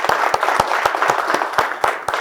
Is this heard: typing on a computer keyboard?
no